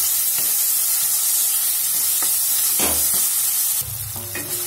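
Chopped tomato and green chilies frying with onion for gobi bhurji, a steady hissing sizzle with occasional scrapes and taps of a spoon, the sizzle dropping in level near the end.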